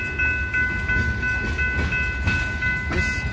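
A train on the Portland and Western Railroad in North Salem, Oregon, rumbling steadily and close with rolling rail noise, rhythmic wheel clicks and sustained high tonal squeal or hum over it, loud and continuous.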